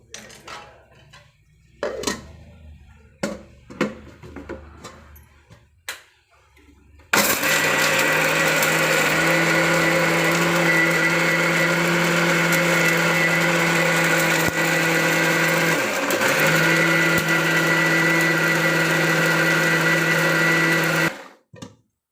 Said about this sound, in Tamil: இதை மட்டும் நம்ம ரொம்ப நைஸாகவும் இல்லாத ரொம்ப குறைன்னு இல்லாத ஒரு மீடியமாக அரைச்சி எடுத்துக்கலாம்